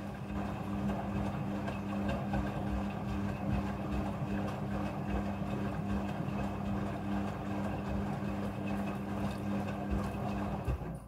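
Steady, continuous hum and water rush of a washing machine filling itself with water for the rinse cycle while washing bed sheets and pillowcases, a strong low drone running unbroken and close throughout with no talking.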